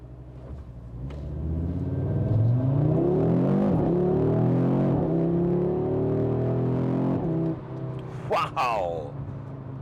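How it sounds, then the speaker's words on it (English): A 2022 Audi RS 3 with a 401 hp engine revs hard and accelerates, a loud rising roar that climbs through gears, then blips during rev-matched deceleration, heard from inside the car while a person talks over it. "you can hear the rev matching as well once you decelerate again"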